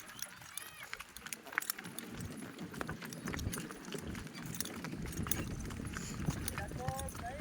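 Horses' hooves clip-clopping along a mountain trail, irregular sharp knocks under people talking, with outdoor background noise.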